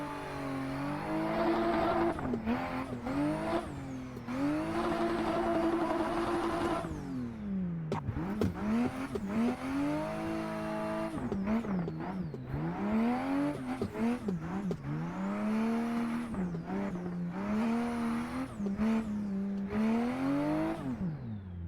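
A drift car in the Assetto Corsa racing sim brakes hard and downshifts with heel-and-toe rev matches, the engine note climbing and falling in repeated blips over a steady loud roar with bits of tire squeal, and no voices.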